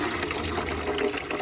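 Water pours steadily into the reservoir of a QEP 700XT 3/4 HP wet tile saw, a continuous close gushing fill lasting the whole moment with no talk.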